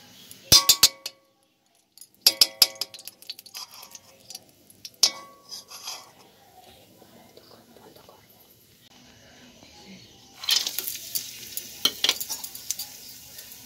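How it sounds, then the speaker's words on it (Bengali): Cashews and raisins frying in ghee in a home kitchen for rice pudding: a few sharp utensil clinks and stirring at first, then a steady, fairly loud sizzle over the last few seconds, with faint whispering. "কাজু কিশমিশটা একটু ঘিয়ের মধ্যে ভেজে নেবো। চলো ভাজা যাক।"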